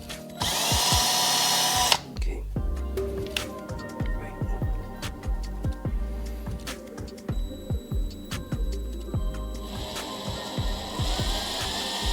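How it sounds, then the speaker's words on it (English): A power drill whirs loudly, then runs in short repeated bursts with ratcheting clicks as screws are driven into a drone frame for T-Motor F1204 motors, close by. "Same drill, slow and steady. Make sure that it is level."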